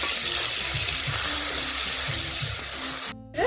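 Prawns sizzling in hot mustard oil as they are stirred in a pan, a loud continuous hiss with rhythmic low scraping strokes, cut briefly near the end.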